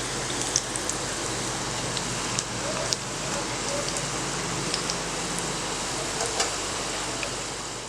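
Iyengar pattinam pakoda frying in hot oil over a medium flame, a steady, even crackle and hiss that runs on without pause, with occasional faint pops rising above it.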